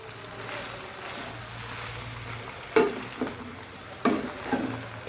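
A spatula stirs papaya flower stir-fry in a pan over medium heat, a soft steady sizzle with a few sharp scraping knocks against the metal, close by and without talk.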